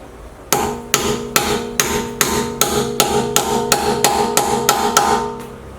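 A 22 mm 12-point socket is hammered onto a wheel security lug bolt, about a dozen sharp, ringing metallic blows landing in a steady rhythm close by, each with a brief clang of resonance.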